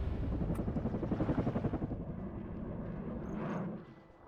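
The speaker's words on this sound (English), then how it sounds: "I also believe there's gonna be a helicopter coming around this way" A helicopter in the real-time strategy game WARNO rumbles loudly with a steady rotor thump that swells and pulses, then fades out near the end, with no talk over it.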